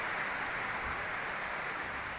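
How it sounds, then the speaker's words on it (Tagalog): Heavy rain pours down in Coronadal City, a steady broadband wash of water that stays loud and even throughout with no voices. "Nararasan din yan sa Coronadal City kung saan bumuhos ang malakas na ulan."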